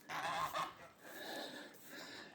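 Toulouse geese honk several times in quick succession, moderately loud and close, with a brief pause before softer, more scattered honking continues. No one speaks.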